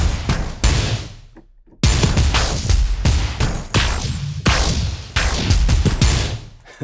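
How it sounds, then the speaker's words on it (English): A rapid string of loud gunshots with short gaps between bursts, sharp cracks and booming tails, with no voices. "And then gunshots."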